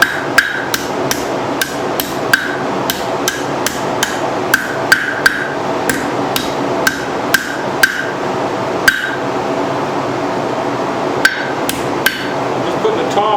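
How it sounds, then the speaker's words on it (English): A rounding hammer strikes hot steel on an anvil while bending the second curve of a forged double hook, giving sharp metallic blows in a steady, fast rhythm, loud and close, with a short pause near the end. "I'm going to try to hammer the second bend in"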